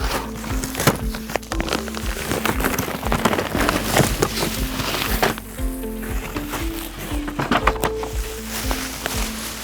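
A Husqvarna Automower 115H robotic lawn mower being lifted out of its box, with close rustling, cardboard scraping and knocking packaging sounds in irregular bursts. A low hum sits underneath.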